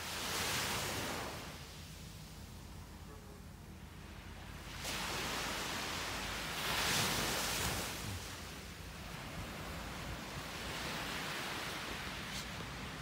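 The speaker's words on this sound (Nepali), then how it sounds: "एउटा समुद्र छ।" Sea waves wash onto the shore beside beachfront villas on Bintan, a continuous rolling surf that swells and recedes in broad surges, with wind noise and no voices.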